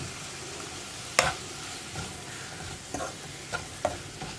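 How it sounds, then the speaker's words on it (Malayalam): A spoon stirs cauliflower thoran in a hot pan, with faint soft frying and a few sharp scrapes and taps against the pan. "ഇതെല്ലാം ചേർത്ത് നന്നായിട്ടൊന്ന് ഇളക്കി മിക്സ് ചെയ്യാം."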